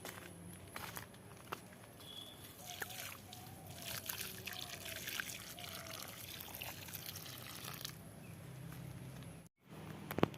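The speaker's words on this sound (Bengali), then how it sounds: "এবারে চলো যাই এবারে করলা গাছে একটু জল দিয়ে আসি" Water trickles and splashes softly onto bitter gourd plants as they are watered outdoors, a faint, continuous flow with light rustling and footsteps. It cuts off briefly near the end.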